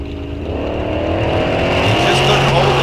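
A supercharged 1969 Chevelle drag car power brakes at the starting line of a bracket race, its engine holding a loud, steady, rising drone as the converter loads up, heard close and continuous throughout.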